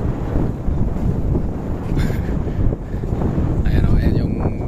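Wind buffets the microphone over a steady wash of sea waves on a boat ride to Tenlisayan Island on rough open sea, loud and continuous with faint engine-like rumble underneath.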